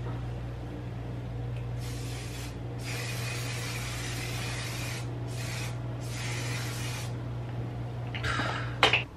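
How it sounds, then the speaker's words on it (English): A setting spray bottle fires several short, hissing mists in separate bursts of a second or two, close to the face, with a low steady hum beneath and a faint clatter at the end. "I do want to spray my face with this because I want my makeup to"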